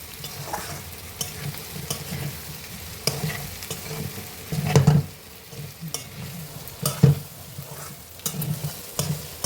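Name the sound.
bitter gourd pieces frying and stirred in pan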